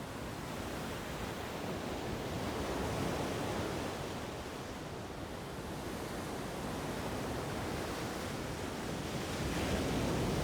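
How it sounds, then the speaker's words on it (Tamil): Ocean waves washing onto the shore, a continuous broad roar of surf that swells and eases slightly over several seconds, steady and fairly close with no voices. "அலைகள்னாலே ஒரு அழகு தான்."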